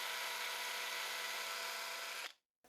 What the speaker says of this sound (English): now I need to drill a hole for the tie-on-eye